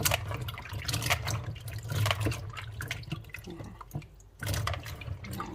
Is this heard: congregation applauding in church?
no